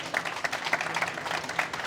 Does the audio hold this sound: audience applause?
yes